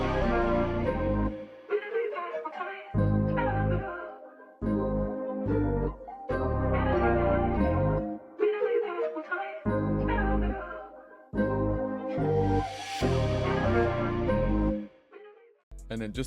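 A chopped hip-hop sample with a double-timed vocal from Splice layered on top plays in stuttering bursts, the rhythmic phrases stopping and starting in short, regular gaps.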